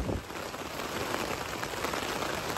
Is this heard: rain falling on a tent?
yes